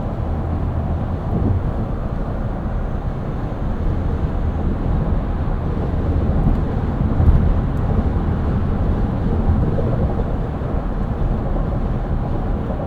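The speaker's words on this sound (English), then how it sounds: "Only wind noise I'm getting is just a little bit from the top of the windshield" Inside the cabin of a moving 2024 Lexus GX 550 Overtrail, a steady low rumble of road and wind noise from the windshield top, continuous and moderate with no talking.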